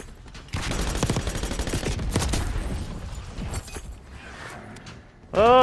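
Grekhova pistol gunfire in Call of Duty Black Ops 6, rapid automatic bursts of sharp shots in quick rhythm, loud and close, thinning out into scattered game effects, with a ringing tone rising at the end.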